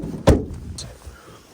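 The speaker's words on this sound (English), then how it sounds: "slamming the bonnet shut and" A Skoda Fabia's bonnet is slammed shut: one loud, sharp metallic thud near the start, followed by a short fading rattle and faint background noise, no voices.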